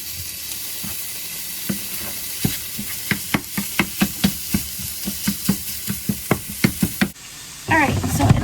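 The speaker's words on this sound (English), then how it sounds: "I'm going to scramble some egg on top and just kind of have this ready to go for the week" Egg being scrambled in a hot pan for a breakfast pizza, with a steady sizzle under a run of sharp, regular scraping and stirring strokes close by, then a louder burst of frying at the end.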